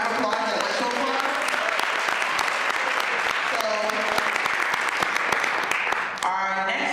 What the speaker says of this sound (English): Can you give us everybody a round of applause at West Shore Club?